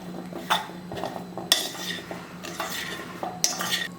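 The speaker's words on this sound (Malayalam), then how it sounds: "നല്ലോണം എല്ലാ ഭാഗത്തും പിടിക്കാൻ പാകത്തിന് മിക്സ് ചെയ്ത് കൊടുക്കണം" Black gooseberry pickle being mixed in a metal vessel: a spoon scrapes and clinks against the sides in close, irregular strokes, with a few sharper knocks and no voices.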